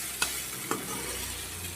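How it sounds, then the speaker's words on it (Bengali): Okra and potatoes fry in a pan with onion and chili, giving a steady, close sizzle with two brief utensil clicks near the start. "ভেন্ডি আলুটা প্রথমে আমি ভেজে নিচ্ছি"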